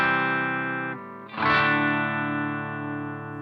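A dry electric guitar with the pedal effect switched off plays sustained chords. A held chord fades, then a fresh strum at about one and a half seconds rings on loud and close with no voices.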